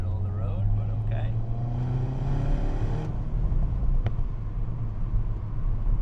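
A 2013 Mini Cooper S Roadster with a 6-speed gearbox drives a twisty road, its engine a steady low drone with a brief rise in pitch, while someone talks over it early on.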